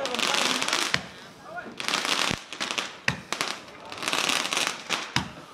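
Rapid bursts of crackling firecrackers and fireworks pop in dense volleys during Lunar New Year in Vietnam, with brief pauses between loud, close rounds.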